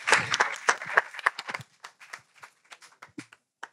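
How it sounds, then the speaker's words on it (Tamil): Applause from an audience at a 2022 gratitude ceremony for Captain Vijayakanth's 70th birthday: dense clapping at first, thinning out into scattered individual claps that fade away. "ஒரு கைத்தட்டல் மூலம் நம்ம நன்றியை சொல்லலாமா?"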